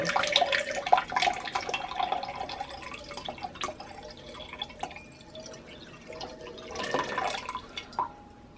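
Water for soaking trickles and drips into a container in short bursts, strongest at the start and again near the end, fairly close and moderately quiet, with no one talking.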